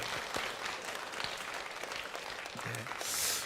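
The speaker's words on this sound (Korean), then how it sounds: "우리 박수로 한번 축복하겠습니다." A church congregation claps together after a closing prayer, giving a steady wash of applause that holds at a moderate distance for a few seconds with no talk over it.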